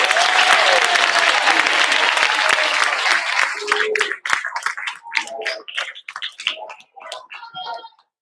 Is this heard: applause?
yes